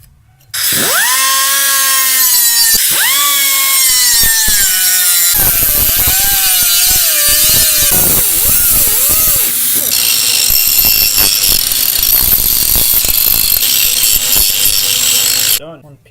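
A power tool cuts out a piece for custom engine mounts during an LS swap into a Nissan S14 240SX. Whining tones give way to a loud, steady grinding rasp that runs close and continuous for about fifteen seconds.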